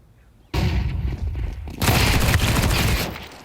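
Desert Eagle pistol fire in a Counter-Strike esports match, heard as a sudden burst of loud, overlapping gunfire that stops briefly and then resumes in a denser, sustained volley before tapering off.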